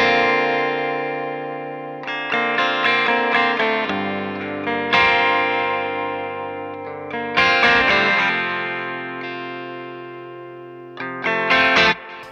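Electric guitar strummed chords through chorus and overdrive effects, shimmering and slightly gritty, with a few rhythmic strums ringing out and echoing between hits, loud and alone without speech.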